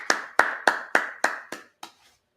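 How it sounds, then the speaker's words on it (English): Seven sharp, evenly spaced claps ring out at a Sabbath service, each crisp and close with a short echo tail, fading slightly in force until the last softer one trails off into quiet. "I clap that up."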